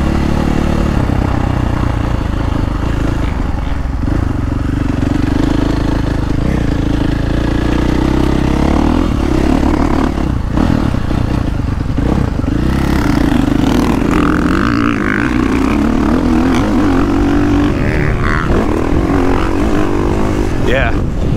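A 2022.5 KTM 450 Factory Edition dirt bike fitted with WP cone valve forks, ridden on a motocross track: a loud, close engine drone that rises and falls with throttle throughout, with no pause.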